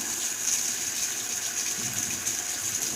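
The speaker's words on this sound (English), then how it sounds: "we're going to lift this up so all that water can go down the sink" Water pours from a cooking pot into a kitchen sink as pasta is drained, a steady, loud, hissing gush with no pauses.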